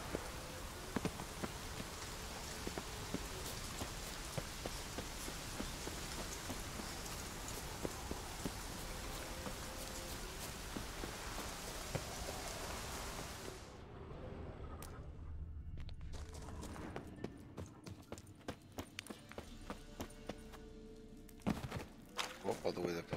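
Steady rain falls in The Witcher 3, dense and close for the first half, then thins to scattered drips and patter, with occasional footsteps and a voice speaking.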